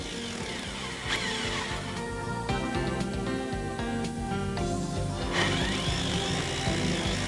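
A drill bit bores into a wall for a wall-mounted boiler installation, giving a steady, loud, continuous whine and grinding that holds for the whole stretch, with slight changes in pitch and pressure.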